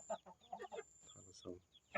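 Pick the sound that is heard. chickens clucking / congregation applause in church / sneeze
chickens clucking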